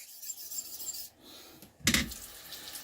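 A straight razor is stroked across Wakasa and Naniwa sharpening stones, giving soft repeated rasping scrapes followed by one louder, brighter grinding pass, close and with no talk.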